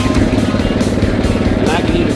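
Small engine of a Murray riding mower converted into a mud mower, idling then given some throttle, a steady loud sputtering drone close by.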